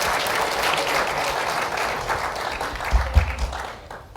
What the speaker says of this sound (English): Let's give a round of applause to these three fabulous guests.